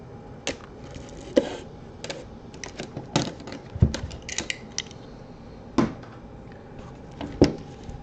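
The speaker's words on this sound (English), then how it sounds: "You get my box cutter here. I'm going to cut it right" A box cutter slicing open a sports card box, heard as a series of sharp, brief scraping and clicking bursts spaced irregularly, close and fairly quiet, with no talk.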